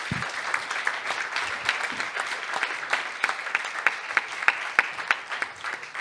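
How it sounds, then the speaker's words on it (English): A live audience claps steadily for the panel speakers at an integrative medicine patient advocacy event, a dense, sustained round of applause with sharper individual claps standing out throughout. "Give them a round of applause one more time, please."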